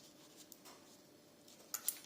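A pen scratches quick tick marks onto a paper savings envelope, faint and close, with a short burst of sharper strokes near the end.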